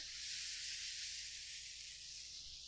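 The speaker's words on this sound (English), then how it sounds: "Let me just add the shrimp." Shrimp hitting a hot pan for creamy coconut vegan rasta pasta, giving a steady, soft, hissing sizzle that runs evenly throughout without talk.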